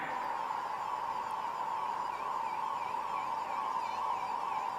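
A steady veterinary ambulance siren wail, fairly distant, with a repeating rising-falling tone over a constant hum.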